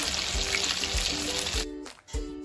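Fish frying golden brown in a pan, a soft continuous sizzle with faint crackle, fairly quiet and alone, briefly dipping near the end.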